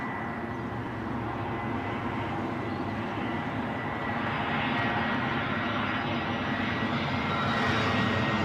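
Brussels Airlines airliner arriving at London Heathrow, its engine roar steady and broadband, holding close and loud throughout and swelling slightly toward the end, with no talk over it.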